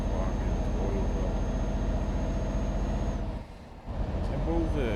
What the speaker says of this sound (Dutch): Flinke klim van de vrachtwagen, dat hoor je ook wel.